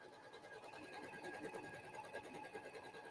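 A sewing machine running a lock stitch while quilt points are sewn, a fast steady mechanical whir and chatter at low volume, continuous throughout.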